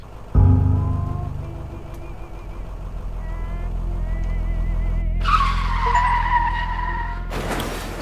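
A bus skids and smashes into a car in a night bus horror video game, a loud sustained engine-and-tire roar with a screech and a final crash burst, no talking.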